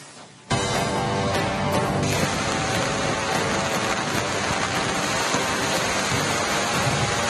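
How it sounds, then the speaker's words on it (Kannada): Heavy, continuous monsoon rain pours across the Malenadu hills of Chikkamagaluru, a dense steady hiss and roar that begins abruptly after a brief quiet moment and stays loud and unbroken without any voices. "ಬಿಟ್ಟು ಬಿಡದೆ ಸುರಿತಾ ಇರೋ ನಿರಂತರವಾದ ಮಳೆಗೆ"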